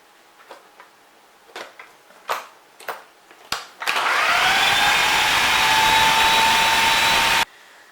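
A few light taps, then a steady, loud electric whir runs for about four seconds and cuts off abruptly as a turkey seasoning blend containing sazon is mixed.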